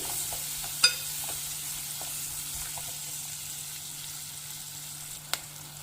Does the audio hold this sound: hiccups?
no